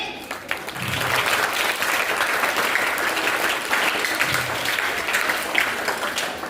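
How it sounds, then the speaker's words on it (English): Students and audience at a school elocution competition clap steadily for a young speaker, a dense wash of many hands lasting throughout, with faint voices underneath. "Let's clap for Rehan for his amazing speech."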